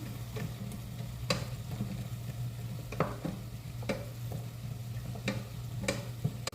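Brinjal and drumstick curry stirred in a pan with tomato and onion, a soft sizzling bed under repeated scraping strokes of the spoon at an irregular pace, close and moderately quiet.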